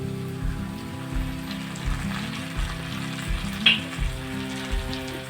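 Semiya (vermicelli) frying in a pan with pepper powder and dry soy sauce, a soft steady sizzle under faint low cooking hum, with a few light stirring clicks and no speech.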